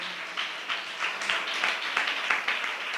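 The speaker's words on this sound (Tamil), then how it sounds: "நல்ல கைத்தட்டி ஆண்டவருக்கு நன்றி சொல்லுவோம்" A church congregation claps in praise to the Lord, a faint, steady rhythm of unison handclaps repeating every third of a second with a roomy wash behind them.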